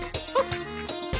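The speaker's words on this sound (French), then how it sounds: "Un beau chien blanc." White toy dog giving a few short electronic barks and yips in a toy shop aisle, brief clipped bursts close to the listener.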